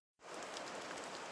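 Rain falls steadily on a forest trail in the foothills, a dense close patter of drops starting abruptly and continuing evenly at a moderate level.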